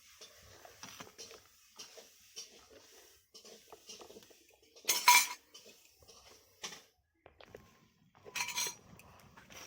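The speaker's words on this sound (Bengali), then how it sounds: "একটু নাড়াচাড়া করে নেবো ভালো করে, যাতে না চালটা বসে না যায় বা পাত্রের গায়ে লেগে না থাকে।" Light metal clinks and scrapes come from a spoon stirring rice in a cooking pot. The taps are soft and irregular, with a few louder scraping bursts standing out against a quiet background.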